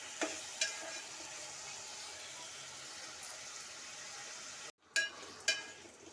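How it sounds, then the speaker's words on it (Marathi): Brinjal and potato sauté in oil with a soft, continuous sizzle and a few clicks of a spoon against the pan, faint and close. "आणि हे सर्व तेलामध्ये छान असं परतून घेते"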